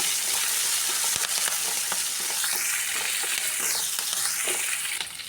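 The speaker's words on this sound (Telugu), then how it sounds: "ఇప్పుడు ఇందులోకి సన్న కట్ చేసుకున్న అల్లం ముక్కలు వెల్లుల్లి ముక్కలు పచ్చిమిర్చి ముక్కలు వేసేసి ఒకసారి మంచిగా ఫ్రై అవ్వనివ్వాలి" Finely chopped ginger, garlic and green chillies fry in hot oil in a pan for tomato chutney, giving a loud, continuous crackling sizzle with faint stirring clicks and no voices.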